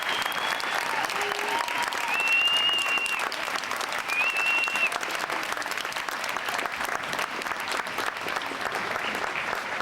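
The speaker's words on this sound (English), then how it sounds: "let's have a round of applause for the class of 2000" Sustained applause fills a hall at an eighth grade graduation as the audience claps for the graduating class, a dense steady roar of many hands lasting throughout, with a few faint whoops above it.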